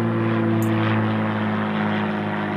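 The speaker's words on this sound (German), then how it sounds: "Ja, ein Sportflugzeug." A light sport aircraft passes overhead above farmland, its propeller engine droning loudly and steadily throughout, with no talking.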